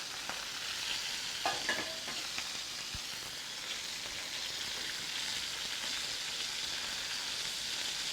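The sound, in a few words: sausage and chicken browning in a pan on a Weber kettle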